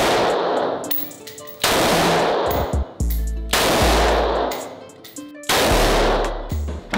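A large-calibre gun fires at an indoor shooting range. Four loud, booming shots come at irregular intervals, each a sharp blast with a long ringing decay.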